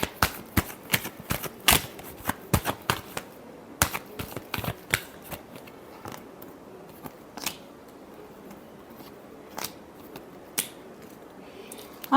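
Tarot cards being shuffled by hand in quick bursts of crisp riffles and snaps, dense at first and thinning into sporadic slaps, close and fairly loud in a quiet room.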